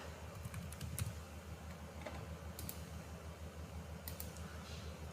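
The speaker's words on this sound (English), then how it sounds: "Again I am typing the year" Soft clicking keystrokes tapped on a computer keyboard while entering values into Python code, heard as light scattered taps over a steady low hum, with no talking.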